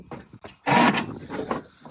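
A collapsible tool box drops into a pickup truck bed with one loud hollow thud and rattle, followed by a few lighter knocks and shuffling contact sounds.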